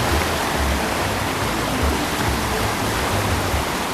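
Heavy river water in Jamaica rushes and roars in a steady, loud, unbroken wash, close by and without voices.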